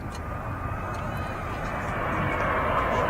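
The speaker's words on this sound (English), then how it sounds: "Jet2 757 from Alicante." A Jet2 Boeing 757 on final approach at Manchester Airport gives a steady, building jet roar that grows slightly louder and nearer, with a voice talking over it.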